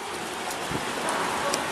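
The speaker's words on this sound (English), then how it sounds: "that sounds like hail. Yep, we have hail." Hail pelts down during a thunderstorm in Mineola, a continuous broadband hiss of ice and rain on surfaces with a few faint taps.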